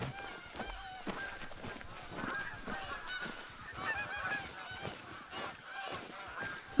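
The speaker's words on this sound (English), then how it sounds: "Man, what is up with these seagulls?" Seabirds calling in theHunter: Call of the Wild, a flock of honking, squawking cries overlapping steadily throughout, fairly close and dense, with no speech over them.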